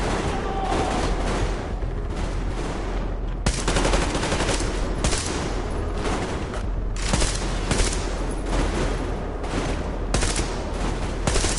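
Sustained covering gunfire in the Fallout video game, a dense, loud, continuous volley of shots and automatic bursts with no letup across the whole stretch.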